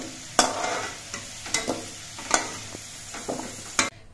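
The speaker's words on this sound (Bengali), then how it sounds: "আলুগুলো আমি লালচে রং করে ভেজে নিয়েছি।" Potatoes fry in hot oil in a kadai while a spatula scrapes and stirs them in repeated sharp strokes over a steady low sizzle. The sound is close and moderately quiet, and no one speaks.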